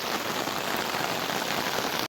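Steady rain falls over a misty hillside village, a close, even hiss of drops on surfaces that continues without pause and then cuts off.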